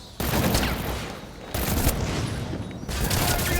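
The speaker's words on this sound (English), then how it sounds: "Firing on suspect!" Sustained bursts of automatic gunfire aimed at a fleeing suspect in Batman Arkham Origins, three loud, dense volleys separated by short lulls.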